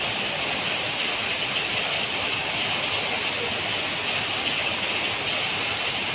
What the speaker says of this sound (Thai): อากาศไม่มืดนะครับ แต่ฝนตกนะครับผม